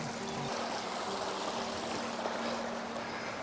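River water flowing steadily around someone wading in welly boots under spring cherry blossom, a continuous close rushing and trickling wash with no talk.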